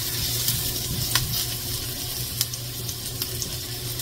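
Garlic frying in a pan for a chicken curry, a steady close sizzle with a few sharp pops and crackles throughout.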